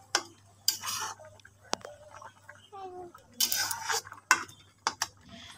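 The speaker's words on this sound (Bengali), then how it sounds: "তো সোডাটা দেওয়ার পরেই আমি কিছুক্ষণ নাড়াচাড়া করে নিচ্ছি।" A spoon scrapes and clinks in a pot of boiled Malabar spinach with soda added, for Pelka, a few sharp knocks and soft stirring sounds at close range, with quiet gaps between them.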